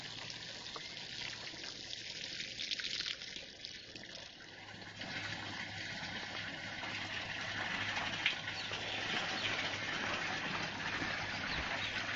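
Water sprays and trickles steadily while a vegetable garden bed is watered, a continuous soft hiss and gurgle that stays fairly even and close throughout.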